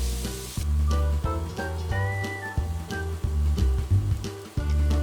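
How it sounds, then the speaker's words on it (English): Masala spices and onions roasting in a hot pan for a paneer bhurji, a soft sizzle broken by repeated sharp scraping and stirring clatters, close by with no talking. "Nicely roast the masalas with the onions for a few seconds."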